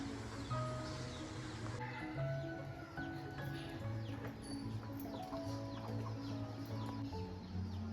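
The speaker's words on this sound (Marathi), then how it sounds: "आमचं कोंबड्या" Chickens cluck and call around a village house in light rain, a mix of near and distant clucks over soft background ambience, with no talking.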